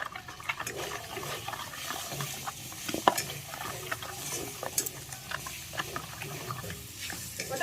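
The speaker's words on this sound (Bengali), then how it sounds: "তো মাংসের কিমাটা ভাজা হয়ে গেছে" Minced meat fries in a pan, a moderate sizzle under frequent clicking and scraping stirs, irregular and close.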